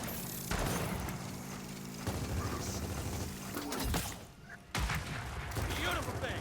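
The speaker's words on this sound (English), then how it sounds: "I am not very good with this torque bow." A torque bow fires in a Gears of War 4 match, sending out several heavy blasts and booming bursts among game effects, while a player talks over the action.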